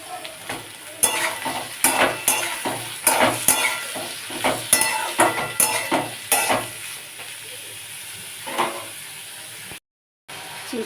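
Snake gourd and potatoes frying in oil are stirred in a pan, producing a steady sizzle broken by repeated close scraping strokes of a spatula, then a quieter stretch of frying with a brief drop to silence near the end.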